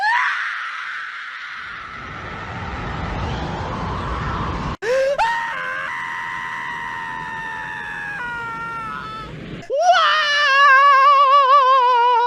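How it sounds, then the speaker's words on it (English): A sustained, blood-curdling scream from the anime End of Evangelion's Shinji, loud and strained, breaks into rising anguished wails and ends in a wavering, shaking cry, with no other talk. "That Shinji scream is fucking just blood-curdling"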